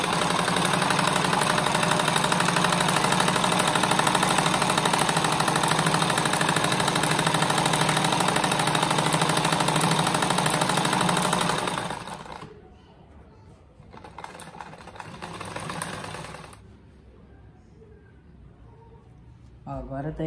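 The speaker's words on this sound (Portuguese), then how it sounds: "Vou passar uma costura aqui na ponta, que é para não precisar ficar apoiando alfinete" A sewing machine stitches along the edge of a rug made from small fabric scraps, a loud steady mechanical whir that runs continuously, then stops abruptly and gives way to quieter handling sounds, with someone speaking.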